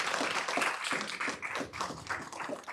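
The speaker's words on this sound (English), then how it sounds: "We can applaud." Applause from a lecture audience, light scattered clapping rising and dipping over a few seconds at moderate distance, with no talk over it.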